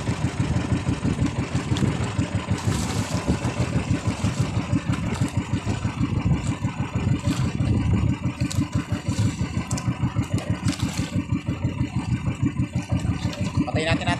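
A fishing boat's engine runs steadily out at sea, a continuous low mechanical drone with clattering texture that holds throughout, with some talk mixed in.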